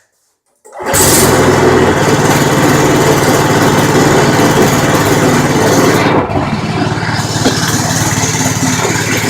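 A small 12-volt generator engine starts suddenly out of silence and settles into a loud, steady, close idle, dipping briefly before running on evenly.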